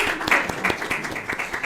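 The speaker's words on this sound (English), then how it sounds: "Applause to Sweden." An audience applauds at a 2024 year-in-review event: a dense patter of many hands clapping at moderate loudness, steady throughout the short moment with a voice faintly mixed in.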